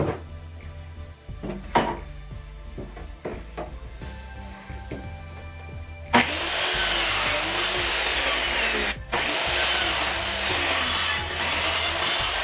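A few scattered knocks and scrapes on wood, then a chop saw whines loudly and steadily through a cut in a wooden board, briefly pausing before continuing.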